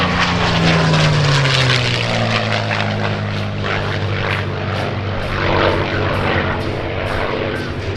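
A P-51D Mustang warbird roars past on a loud, sustained propeller flyby at an airshow, its engine drone dropping in pitch as it passes, with crowd or announcer voices faintly beneath.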